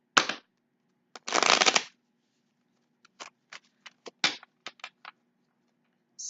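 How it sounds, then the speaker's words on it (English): Tarot cards riffled and shuffled in several bursts: one long riffle, then a string of short snappy flicks, close and fairly loud, with quiet pauses between. "let me just shuffle these real quick."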